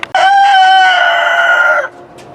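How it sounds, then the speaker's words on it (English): A hen perched atop a catio and parrot cage, scratching around for bugs, gives one loud, close, sustained squawking call lasting nearly two seconds before it breaks off, with no talk over it. "That chicken is up there on top of our catio / parrot cage, and she's digging around for bugs."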